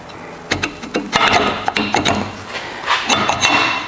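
A cleaned Land Cruiser 100 Series front wheel hub slides back into place, giving a series of close, sharp metallic clanks, scrapes and knocks in irregular bursts.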